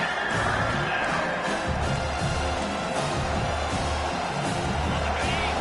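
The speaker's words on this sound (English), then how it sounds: "Decibels rising as the crowd gets behind this defense on 3rd down" A large football stadium crowd roars steadily as the defense lines up on third down, a dense sustained wash of cheering and noise with no clear individual voices.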